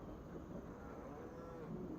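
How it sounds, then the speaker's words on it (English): Holstein cows low and moo at a barn in the Farming Simulator 25 farming game, a faint, continuous bovine mooing with overlapping calls and no clear gaps. "So we're going to have the cows come out of this barn here, the Holsteins"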